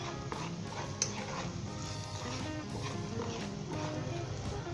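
Spoon stirring a potato and pea curry (aloo matar) in a pan, with soft scraping and clinks over a low sizzle, steady and close, with no talking.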